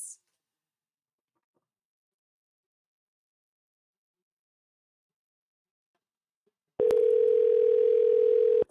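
Silence, then a steady electronic telephone ringing tone for a call-in show starts and holds for about two seconds.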